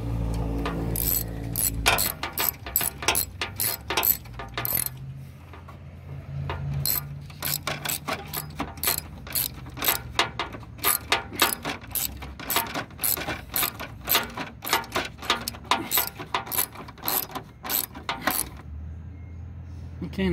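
Hand ratchet snugging down headlight mounting screws on a 2008 Ford E-350, a long run of rapid, evenly spaced pawl clicks close by, pausing briefly midway before resuming.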